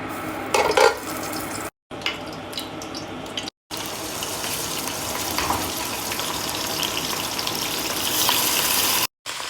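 Steak sears in a pot of ghee and oil with a steady, dense sizzle and crackle, broken by a few metallic clinks of utensils against the pot, close and loud with no talk.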